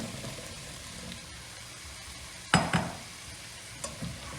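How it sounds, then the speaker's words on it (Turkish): Quiet background hiss of potatoes sautéing in a pan, with a couple of sharper stirring scrapes and sizzles partway through. "Şöyle 2 dakika patateslerimle birlikte kavuracağım."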